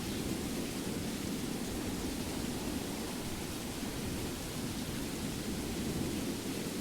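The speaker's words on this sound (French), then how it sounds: "Il pleut! Il pleut!" Rain and thunder in the video game Skyrim, near the city of Solitude, a dense unbroken roar of rainfall with a low rumbling undertone, steady and loud throughout with no voices.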